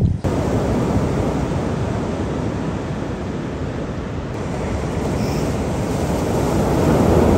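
Warm ocean surf rolling onto a beach in Bali, a steady, loud wash of broadband noise with wind buffeting the microphone and no clear individual wave breaks.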